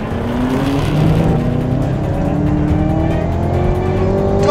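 A 2020 Porsche 911 Carrera S and a supercharged Camaro ZL1 accelerate hard in a drag race, a loud steady engine roar with rising pitch as they pull away together, no voices.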